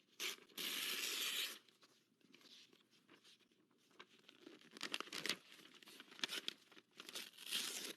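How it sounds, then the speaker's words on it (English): Cards torn into sixteen pieces: a loud opening rip followed by bursts of tearing and crinkling paper, close up and uneven in rhythm. "I'm going to tear this into 16 pieces."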